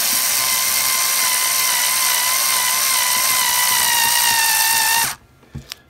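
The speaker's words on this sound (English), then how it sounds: "we're trying to drill the hole while the putty is still wet" A power drill whines loudly and steadily at high speed drilling a hole through wet putty, then stops abruptly, followed by a couple of faint clicks.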